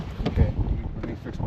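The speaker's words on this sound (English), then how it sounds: "it is a super windy day here at Lake Havasu" Strong wind buffets the microphone on a super windy day at Lake Havasu, a rough, gusting rumble with low-end blasts and no clear talking.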